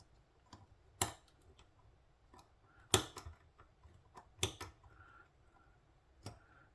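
A dagger-style button-lock folding knife with Micarta handles being taken apart by hand, giving sparse, quiet metallic ticks and sharp clicks as its springs are wrestled free, spaced irregularly with faint handling noise between.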